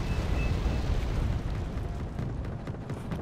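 Abbot self-propelled artillery fire and explosions in Wargame Airland Battle make a dense, continuous roar of booms and blasts, loud at first and easing slightly, with no talk.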